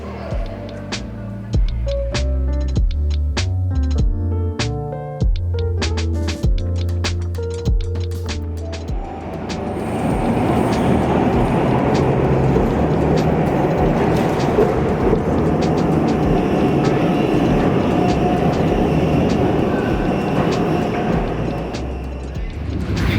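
A tram in Christchurch, New Zealand rumbles along with steady rolling noise, following a stretch of bright tones and clanks as it gets moving; loud and close throughout.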